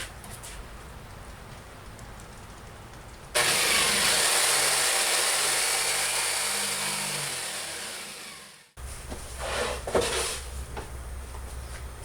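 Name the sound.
jigsaw cutting an aspen wood panel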